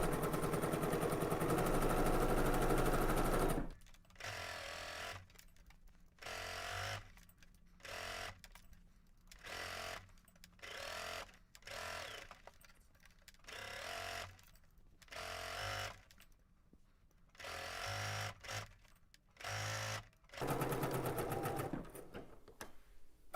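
Domestic sewing machine stitching fabric along a folded edge, a loud mechanical whirring that starts and stops in repeated bursts of varying length, with short pauses between runs and no talk.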